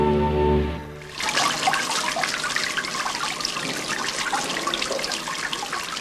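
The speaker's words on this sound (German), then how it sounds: "Das ist ein Wasserrohrbruch. Nein, keine Angst, das kommt auf den Lautsprechern hinterm Bett." Rushing, hissing water from a burst water pipe played through loudspeakers behind a bed, starting abruptly after a low tonal sound and continuing as a loud, steady broadband gush.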